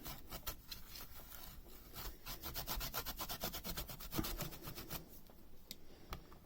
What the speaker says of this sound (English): I either use a wipe or a stamp cleaner and a microfiber towel just to get it clean.